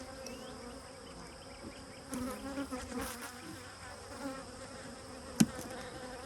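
Honeybees buzzing around a beehive, a faint continuous hum with individual bees passing closer now and then, plus a sharp click of handling.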